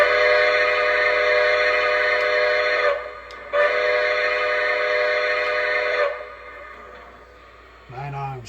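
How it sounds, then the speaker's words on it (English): A Lionel S.A. 4-4-2 model steam locomotive sounds its whistle in two long, loud, steady chord blasts with a brief gap between them, followed by a short mechanical clatter at the end. "that good old whistle."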